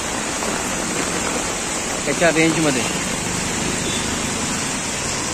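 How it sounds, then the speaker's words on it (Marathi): Heavy rain falls continuously, a dense, even roar that fills the whole scene. A person speaks briefly over it partway through. "कंटिन्युअसली सकाळपासून ह्याच पोझिशनला पाऊस पडतोय"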